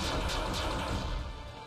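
Gunfire and booming blasts in a first-person video game, a dense run of loud, broadband shots and impacts layered over a rumbling low end, continuous throughout with no talk.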